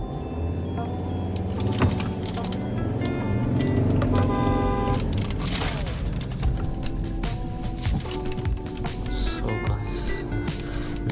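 A 2017 Ford Endeavour 3.2L SUV pulls away under acceleration, its engine note rising in pitch over a continuous mechanical drone, with some faint cabin noises and brief voices in the background.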